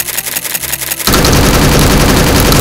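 Rapid automatic gunfire from a novelty hula hoop weapon in Counter-Strike, a dense, loud, continuous burst that kicks in abruptly after a second of quieter, stuttering shots.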